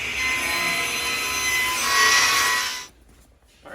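A saw rips through thick, lightweight poplar boards, cutting in a steady, loud rasp for nearly three seconds before it abruptly stops, leaving near-silence.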